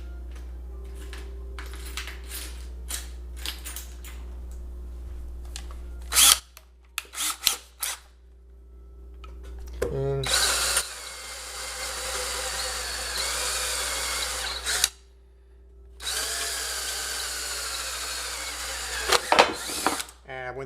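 A power drill with a 1/8 inch bit bores into wood in a few bursts of whirring and grinding, with quiet handling clatter between them. A person speaks at times.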